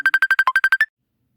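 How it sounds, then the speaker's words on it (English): A phone ringtone plays a rapid, evenly spaced series of about ten bright electronic beeps lasting under a second, loud and close, then stops to silence. "there goes my phone"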